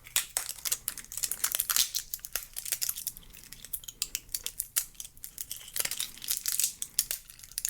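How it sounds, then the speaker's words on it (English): DJI Phantom 4 Pro propellers are pulled out of Ziploc plastic bags, giving close, loud crinkling and rustling in quick irregular bursts, with no talking. "the blades are the least elegant to unwrap out of everything in this box"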